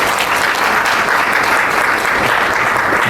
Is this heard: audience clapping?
yes